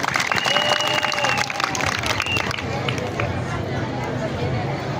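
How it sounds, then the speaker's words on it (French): Outdoor crowd at a ceremony applauding, a sustained, fairly loud patter of clapping mixed with crowd murmur and movement. "Je veux que vous l'applaudissez"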